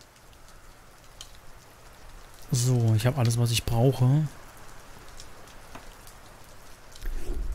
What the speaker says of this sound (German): Müssen gucken, wo der Regen fällt.